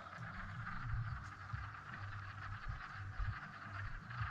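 Wood frogs calling near a spring pond, a faint continuous chorus of low clucking croaks, distant and soft, with scattered closer calls and no talking.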